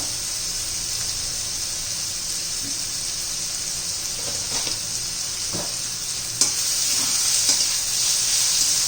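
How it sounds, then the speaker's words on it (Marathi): Chopped tomatoes with a pinch of salt fry in oil for rajma masala, producing a loud, continuous close-up sizzle and hiss, with a single sharp utensil knock partway through after which the frying grows slightly louder. "टोमॅटो पण एक दोन मिनटं आपण असं तेलामध्ये शिजवून घेऊ"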